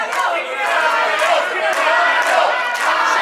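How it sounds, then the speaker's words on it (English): Roaring, excited crowd in a wrestling arena before an iron man match, a loud continuous wall of cheering and shouting voices with rising swells. "Oh man, listen to this crowd."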